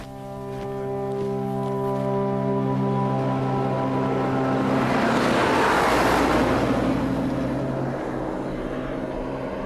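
A truck engine drones steadily along a rough road in Mongolia, heard from inside the cab with a low rumbling tone and rising rattling noise, continuous and fairly loud.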